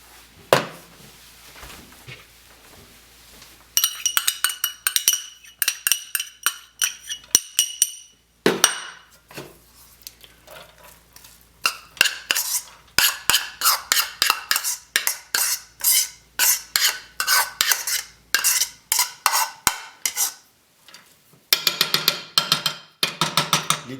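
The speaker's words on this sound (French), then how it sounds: "on va mettre dans le chaudron pour commencer les oignons et l'ail" Onions and garlic being added to a cooking pot with a small spoon, heard as a long series of sharp metallic clinks and taps, some in quick rhythmic clusters, with brief pauses between.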